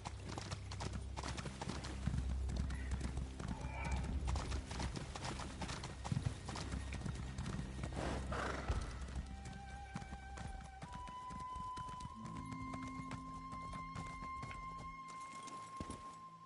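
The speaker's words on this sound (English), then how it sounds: "Now to ride my horse all the way into town." Steady clip-clop of horse hooves trotting at a brisk, even rhythm in the video game The Elder Scrolls Online, with an occasional whinny and a sustained musical tone coming in toward the end.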